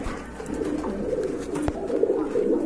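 Pigeons at a pigeon market coo in low, rolling, overlapping murmurs, steady and fairly close, with one sharp knock in the middle.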